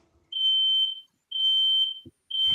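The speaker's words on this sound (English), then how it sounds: "It sounds like a fire alarm" Loud, piercing electronic alarm resembling a fire alarm: three long, shrill steady beeps with short gaps between them, close and harsh, with a faint bump of noise in one gap and no speech.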